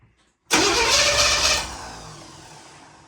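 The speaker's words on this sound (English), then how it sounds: "well, the starter works. Sounds much better." A 1984 Corvette C4 engine cranks briefly on a new starter, then catches with a loud roar that settles into a fading idle, heard close up with no talking.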